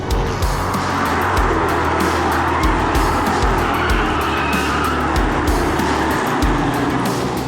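Race cars roar loudly around a track, engines droning steadily with passing surges and tire noise, continuous and close.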